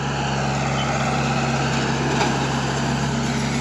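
A skid steer working around a pond, its engine running steadily and loudly throughout with a constant droning hum, close by and with no talk.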